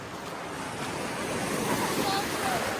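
Sea waves breaking on Malvan beach, a continuous broad rush of surf mixed with wind buffeting the microphone, steady and fairly loud throughout.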